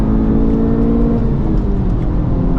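A 2023 Honda Civic Type R drives a track lap, its engine a loud, steady in-cabin drone of sustained revs with low rumble and whir, and no talk.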